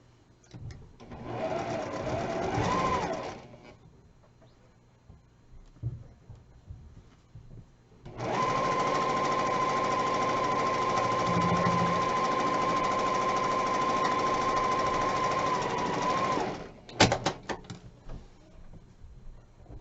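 A sewing machine stitches quilt pieces with a quarter-inch seam, running in a short burst, pausing, then humming steadily for about eight seconds before a few quick final stitches, close and clear.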